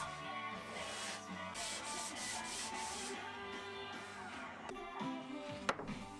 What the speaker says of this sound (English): Using a bit of 100 grit sandpaper on my sanding block removes any of the glue squeeze out